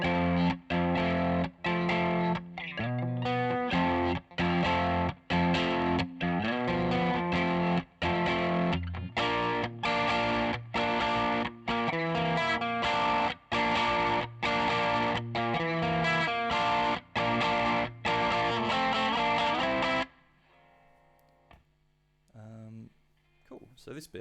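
Distorted electric guitar run through effects units plays a choppy, repeating tritone verse riff with a capo, rapid rhythmic stabs for about twenty seconds before dropping to faint notes and quiet picking.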